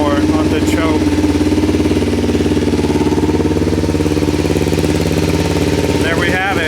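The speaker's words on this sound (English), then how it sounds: "We have a running bike. More on the choke." Motorcycle engine idling on choke, a steady low, even putter that runs continuously and stays loud and close throughout, with a brief burst of other noise near the end.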